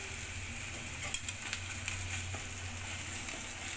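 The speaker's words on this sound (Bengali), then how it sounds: "এই যে এখন আমি রসুন বাটা দিয়ে দেবো।" Garlic paste hits hot oil with reddish fried onions in a pan, a soft steady sizzle with a few sharp spits and crackles early on, fairly quiet and without talk.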